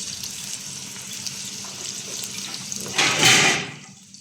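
Onion, garlic and green chili frying in hot oil for an eggplant and fish dish: a steady, faint hiss, then a louder burst of sizzling near the end before it cuts off. No one talks.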